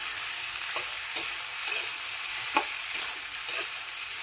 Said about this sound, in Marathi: आपण हे व्यवस्थित हलवलं आहे।